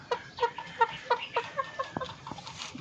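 Young gray gamefowl chickens, about four months old, cluck in a quick series of a dozen or so short, close calls, bunched at first and then trailing off into scattered softer clucks.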